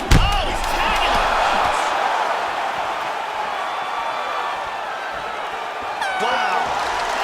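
Roaring arena crowd in the EA Sports UFC 3 fighting game, a loud sustained wall of cheering and shouting after a big knockdown, with a sharp impact at the start and a commentator talking over it.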